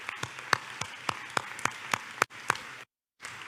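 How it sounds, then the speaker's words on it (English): Sparse, evenly spaced claps from a small church congregation during an online Sunday service, about ten distinct near claps in a loose rhythm, faint overall, ending in a brief silence. "So we want to give you another round of applause"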